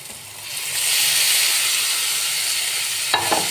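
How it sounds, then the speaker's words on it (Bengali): Marinated small river fish going into a pan of soft, melted tomato and onion masala, giving a steady broad sizzling hiss that swells after a second and holds, with a brief clatter near the end. "এবার আমি ওই ম্যারিনেট করা মাছটা দিয়ে দেবো,"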